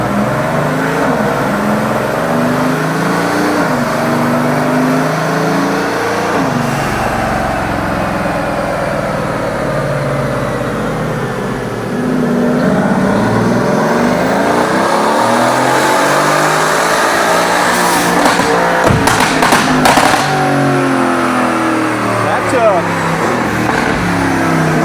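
A Bentley Continental Supersports, recently repaired after its power cut out, accelerates hard with a loud, continuous engine roar. The pitch rises and falls through repeated pulls, with people talking inside the car over the engine.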